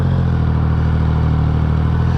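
A Triumph Rocket III motorcycle engine runs with a deep, steady rumble close by, its mechanical clatter continuous through the whole moment without any break.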